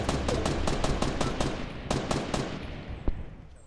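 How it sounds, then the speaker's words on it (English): Rapid bursts of automatic gunfire in the video game Fortnite, several quick volleys in a row followed by a lone sharper shot, loud and fairly close, with no talk over it. "Someone's shooting."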